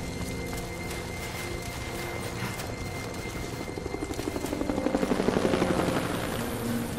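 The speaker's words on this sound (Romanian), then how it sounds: "A zburat un elicopter, dar nu știu unde s-a dus și de unde a venit." A helicopter in the video game Rise of the Tomb Raider flies overhead, its rotor chop building from a distant hum into a loud, rapid rhythmic thumping that peaks near the end.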